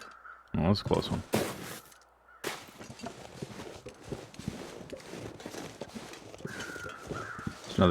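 Crows caw in a snowy wilderness survival game, with a few harsh calls amid crunching footsteps and scattered game sounds, moderately loud against a steady ambient bed; a voice speaks briefly.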